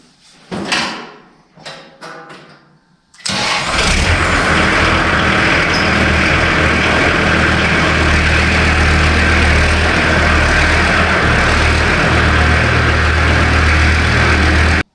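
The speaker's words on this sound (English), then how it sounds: "I'll back the tractor up so I don't have to dump under the bucket" After a few clunks and knocks, a tractor engine starts up and runs loudly and steadily, a close, constant diesel rumble.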